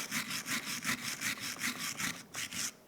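Rust being scrubbed off a rear brake rotor of a 2006-2011 Cadillac DTS, a close, steady back-and-forth rasping with about a dozen even strokes and no talk.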